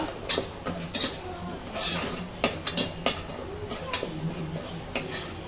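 A utensil stirs gram flour roasting in a pan for Sindhi kadhi, giving steady scraping with repeated sharp clinks of metal against the pan, close up and fairly loud.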